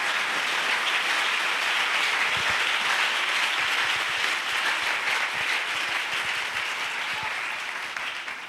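A church congregation applauds loudly and steadily, dense sustained clapping filling the room for several seconds before easing slightly at the end, with little talk over it.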